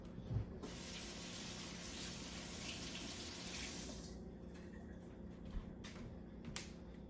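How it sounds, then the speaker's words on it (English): Tap water runs steadily into a kitchen sink for about four seconds while hands are rinsed, then shuts off, leaving faint drips and small splashes, close and quiet. "let me rinse off my hands"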